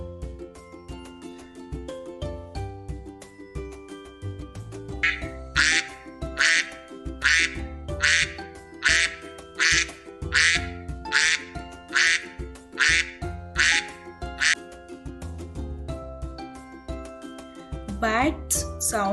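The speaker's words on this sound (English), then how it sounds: "Ducks sounds quack." A duck quacks over and over in short, regular bursts, loud and close, layered on top of continuous background music.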